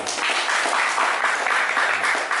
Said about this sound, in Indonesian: mulai tahun 2018 ini tepuk tangan dulu